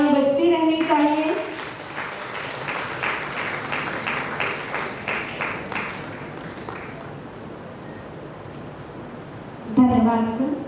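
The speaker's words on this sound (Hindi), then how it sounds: "तालियां बजती रहनी चाहिए" Crowd at a university lecture session keeps clapping for an honored professor, a moderate rippling applause that gradually thins out, with an amplified voice speaking at the start and again near the close.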